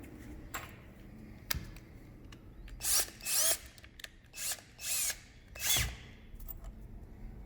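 A power drill with a T25 bit drives screws to mount a gate latch socket in a series of short, loud whirring bursts, separated by brief pauses and a few clicks.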